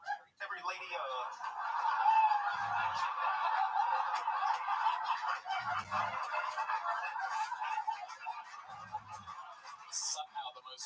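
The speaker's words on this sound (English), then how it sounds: "For Mars Martian, that sound is called Jungle Bird before you think I am dropping a slur" The Jungle Bird soundboard effect, a honking, cackling bird call, plays loudly in repeated bursts, mixed with laughter-like chortles and a steady, muffled voice underneath.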